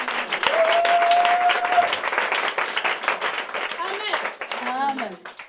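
Church congregation applauding and cheering for Jesus, sustained loud clapping with voices mixed in that eases off toward the end, with brief vocal shouts near the close.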